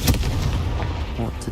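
A fire spell blast in the video game Hogwarts Legacy: one loud booming burst right at the start, then a sustained low rumbling roar that fades out with a faint second swell near the end.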